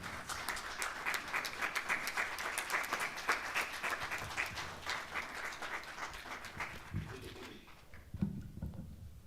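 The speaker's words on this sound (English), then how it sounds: "Round of applause," A seated audience at a Free State education breakfast meeting gives a sustained round of applause for the provincial MEC for Education, dense clapping filling the room for about eight seconds before thinning out at the end.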